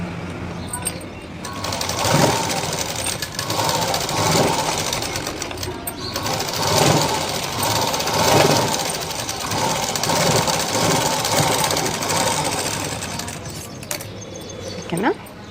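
A sewing machine top-stitching a blouse runs in fast rattling bursts with brief pauses between them, close and fairly loud, with a voice talking over it.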